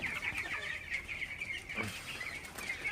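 Broiler chickens in a poultry shed of about 400 birds, a dense, continuous chorus of soft clucking and chirping heard at moderate volume without talk.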